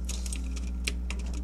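Rapid computer mouse and keyboard clicks while playing Roblox Adopt Me, a close, steady run of light taps and clicks with no talking.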